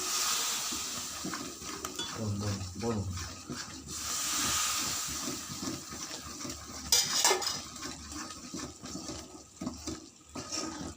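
Hot oil is stirred by the spoonful into gram flour and Horlicks in a pan: soft scraping and metallic clinks of spoon on pan, with a brief liquid pour, fairly quiet and close.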